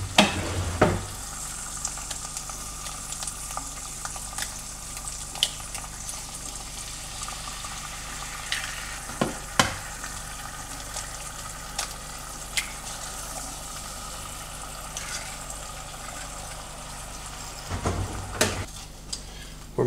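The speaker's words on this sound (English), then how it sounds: "We're making some eggs and corned beef hash this morning" Eggs and corned beef hash fry in a pan at breakfast, a steady soft sizzle with scattered utensil scrapes and clinks against the pan.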